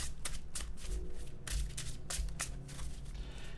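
A deck of Lorcana trading cards gets shuffled by hand, close and quiet, with repeated quick riffling bursts in an uneven rhythm.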